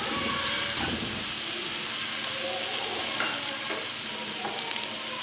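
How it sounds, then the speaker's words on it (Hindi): A kebab mixture for crispy resha kebabs fries in a pan, giving off a steady dense sizzle with occasional stirring scrapes, close and continuous. "थोड़ा थोड़ा इसको फ्राई करते हैं"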